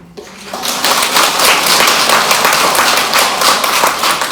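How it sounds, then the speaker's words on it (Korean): A gathered audience claps together in a steady, loud, even patter of many hands that fills the room, starting after a brief quiet moment and going on without talk. "여러분들 위해서 박수 친 거예요"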